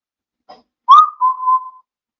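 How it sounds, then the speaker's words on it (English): A person whistles a short tune, one brief faint chirp followed by a clear rising note that settles into a sustained, slightly wavering tone lasting under a second, alone with no other sound. "I whistled."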